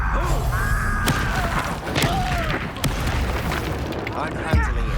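Fire spell Incendio cast in the Hogwarts Legacy video game, with booming blasts and thuds layered over dense combat noise and a shouting voice, loud and close throughout.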